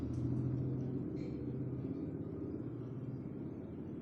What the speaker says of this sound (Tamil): செல்ஃப் மோட்ரு மட்டும் சுற்றுது